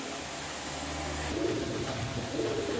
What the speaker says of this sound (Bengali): খুব সুন্দর ডাক আছে নরের কবুতরও খুব সুন্দর